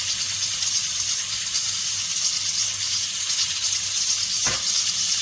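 Meat for a Moroccan artichoke tajine searing in a hot pan, seasoned with salt and black pepper, giving a steady close bright sizzle with one short sharp crackle near the end, no voices.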